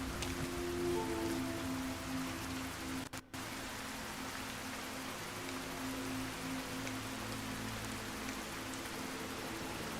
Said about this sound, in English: I think it's the first time I've had rain in this game.